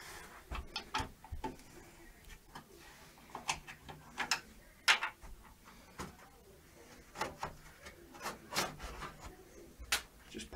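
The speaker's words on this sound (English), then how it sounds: "I'm gonna take out the top bezel" Irregular plastic clicks, taps and scraping as the top bezel is worked loose from a Cooler Master gaming PC case, close and moderately quiet, with no voice.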